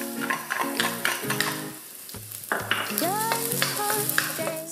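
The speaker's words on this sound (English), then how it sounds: "Stir fry all together about a minute." Chopped garlic and ginger stir-fry in chili oil in a wok over high heat, a steady crackling sizzle with scraping stirs beneath a prominent tonal melody.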